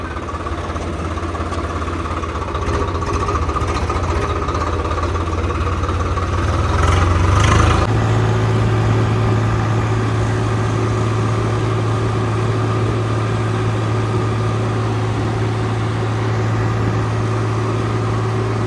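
A Swaraj 855 tractor engine runs continuously nearby, a loud steady low rumble that rises briefly in pitch and then settles into an even drone.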